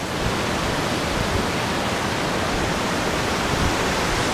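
A waterfall on Kauai, Hawaii pours in a steady, dense rush of falling water, loud and unchanging, with no voices.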